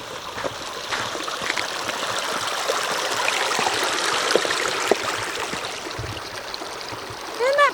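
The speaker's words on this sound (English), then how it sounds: "Ooh, it's the creek!" A creek in Fish Canyon rushes and trickles in a steady, close wash of running water, with faint footsteps and a brief voice near the end.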